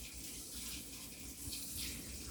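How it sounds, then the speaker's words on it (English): Faucet water runs in a steady, faint background stream in a home kitchen while ground beef and potatoes are being cooked. "if you hear the sound of the water running in the background"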